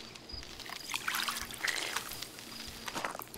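Character drinking water in the survival game Rising World, a close, continuous watery trickle and gurgle with small splashy pulses lasting a few seconds, with no talking.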